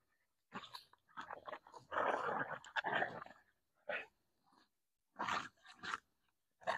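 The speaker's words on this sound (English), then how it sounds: "I don't know if you can hear my dogs here." Several dogs make short bursts of barking, whimpering and growly noise, close by in a quiet room, with pauses of silence between the outbursts.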